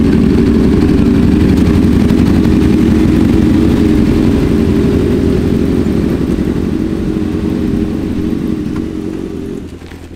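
Yamaha R7 motorcycle engines at a car meet, a loud, close, continuous rumbling drone that holds steady, then eases off slightly near the end.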